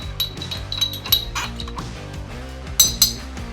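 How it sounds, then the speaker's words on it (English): An Applejack old fashioned cocktail is stirred in a glass with a spoon, producing a few light, scattered clinks and taps close by against a quiet background. "Now we're going to stir for a little bit just to mix it up."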